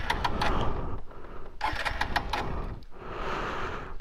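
A motorbike engine failing to start: repeated cranking bursts that sputter briefly and then die, three attempts separated by short pauses, close and fairly loud.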